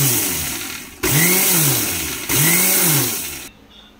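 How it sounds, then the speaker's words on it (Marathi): Kitchen mixer grinder blending yogurt into buttermilk, two loud whirring bursts of the motor that rise and settle, separated by short pauses, heard up close with no talk. "दही आता मिक्सरला लावून घेते."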